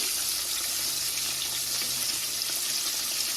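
Breaded chicken pieces for copycat Chick-fil-A fry two at a time in oil over slightly lowered heat, producing a constant, dense, hissing sizzle that stays even and close throughout, with no voices.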